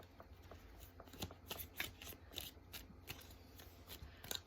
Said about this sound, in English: I'm just going to pull a few more cards